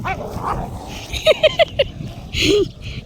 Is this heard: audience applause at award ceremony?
no